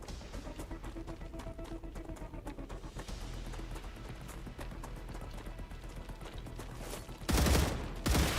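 Rapid gunfire and reloading in the StarRupture video game, a steady stream of close shots followed by two loud, heavy blasts near the end.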